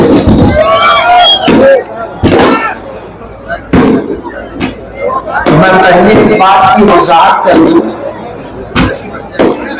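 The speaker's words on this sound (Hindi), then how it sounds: "ये जो पटाखेबाजी हो रही है ये हम नहीं कर रहे" Sharp firecracker bangs burst repeatedly over loud crowd noise at a public speech in Malegaon, while someone speaks close by.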